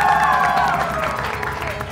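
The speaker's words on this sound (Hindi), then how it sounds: "तो बहुत सारी तालियां आसा भाई के लिए" A studio audience claps on a morning television show, a steady wash of applause mixed with a sustained tonal voice or music sound in the first half.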